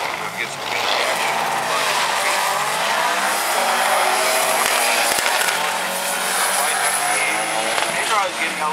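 Volkswagen drag cars accelerating down a drag strip, a sustained roaring engine drone with rising pitch and tire noise, fairly loud and steady, with a commentator talking over it.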